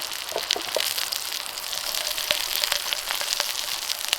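Softened vegetables sizzle in a pan with tuna on a multifuel camp stove outdoors, a dense continuous frying hiss with sharp pops scattered throughout, close and steady, without voices.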